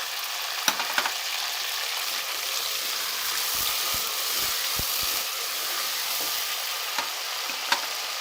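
Whole spices such as cinnamon, star anise, black cardamom, cloves, black pepper and cumin fry in hot oil for a dal chicken curry, giving a steady close sizzle with a few light clicks and stirring taps.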